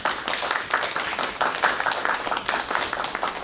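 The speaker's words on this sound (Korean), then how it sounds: "박수를 받으면서 들어오셔야 되겠습니다" A hall audience at an academic award ceremony applauds as a guest walks in, producing a steady, dense wash of clapping that holds for a few seconds.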